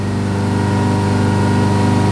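A Ford Focus engine with a lean fuel-trim fault revs up to about 3,000 RPM, a steady droning hum with strong low harmonics that holds continuously and loud throughout, with no talking.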